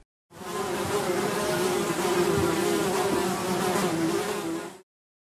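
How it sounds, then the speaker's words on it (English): A bee's buzzing hum runs for close to five seconds, steady and moderately loud with a slightly rough, wavering drone, heard alone before stopping abruptly. "bee"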